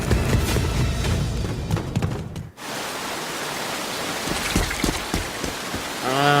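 Rain falling in a video game, a dense steady hiss of drops on surfaces that cuts out briefly midway and then resumes with scattered heavier splashes.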